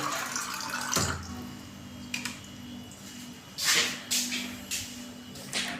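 Water pours and splashes as it is filled into a sprayer tank for spraying a paddy field outdoors, with a running flow and a few louder sloshing bursts nearby.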